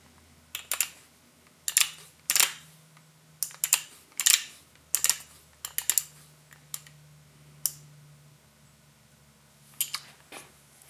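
Torque wrench tightening bolts on a John Deere 755 compact tractor, giving a series of sharp, close clicks in irregular bursts with a faint low hum in the background and no talking.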